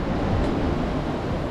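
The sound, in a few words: ocean waves on a beach in Bali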